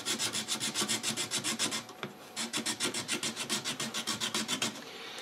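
Hand filing or rasping a briar pipe stem during a Cellini Canadian pipe restoration, even rhythmic strokes close up, a short pause midway, then the regular back-and-forth resumes.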